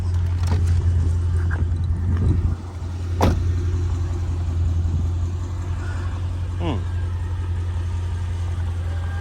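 A widebody Mercedes CL55 AMG with a Black Series kit, tuned, drives along a cul-de-sac with a steady deep engine rumble and a few soft thumps, under faint voice-like sounds.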